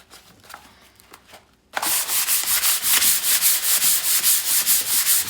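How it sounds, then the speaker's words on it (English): After a brief quiet start, rapid back-and-forth sanding with folded 220-grit sandpaper begins on rusty metal, loud and close, with a fast even rhythm of gritty strokes. "I'm using a 220 sandpaper, grit sandpaper."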